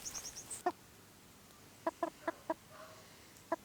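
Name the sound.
young chickens (pullets) clucking on homestead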